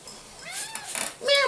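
A cat meows in a short, rising cry that pulls into a longer, higher call, close by and moderately loud with no other sound over it.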